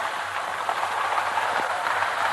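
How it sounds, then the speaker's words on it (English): A train rolls through a railway switch as a radio drama effect, a steady broadband rumble and hiss with faint clacks, continuous and fairly loud throughout. "Your train is going through the switch now."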